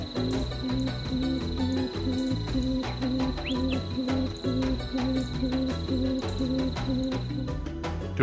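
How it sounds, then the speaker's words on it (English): A Sri Lanka frogmouth calls in forest, repeating a steady rhythmic series of low hooting notes over a constant high insect drone, fairly loud and unbroken with no voices. "Listen for the call of the Sri Lanka frogmouth, a mysterious bird that's perfectly camouflaged against tree bark."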